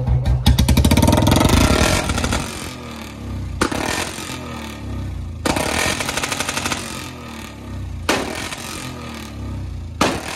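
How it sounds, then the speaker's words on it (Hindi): Royal Enfield Bullet motorcycle engine idling during warm-up, a loud, steady thumping exhaust beat close by, with a burst of revving at the start and a few sharp rattling bangs recurring every couple of seconds. "तो फ्रेंड्स हमने अपने बुलेट को स्टार्ट कर दिया भाई"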